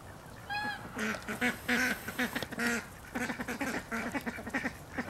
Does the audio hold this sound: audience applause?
no